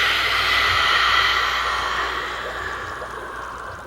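A person makes a long, breathy open-throat exhale during a children's yoga exercise, voicing a soft hiss that imitates ocean waves, steady and close, gradually fading toward the end.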